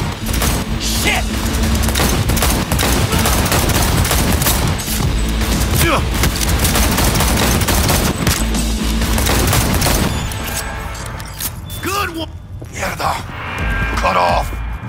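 Sustained, loud automatic gunfire in the video game Cyberpunk 2077 during a Maelstrom gang firefight, dense bursts and booms roaring for about ten seconds before thinning out, with voices shouting over the shooting.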